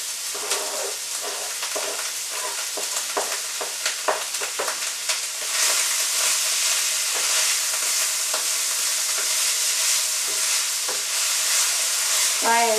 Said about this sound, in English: Oil is ready. I'm gonna put this in to fry.